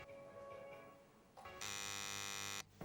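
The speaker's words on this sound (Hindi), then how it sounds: "कृष्णा जी ने बजर दबा के गलत कहा" A quiz show buzzer is pressed and gives one loud, steady electronic buzz lasting about a second, heard over low studio hum.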